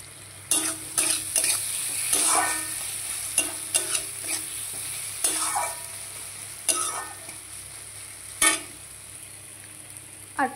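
Paneer fries in poppy seed paste in a pan with an intermittent sizzle, broken by the scrape and clatter of a spoon stirring against the pan every second or so, close by with no talking.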